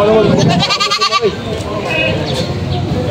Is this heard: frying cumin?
no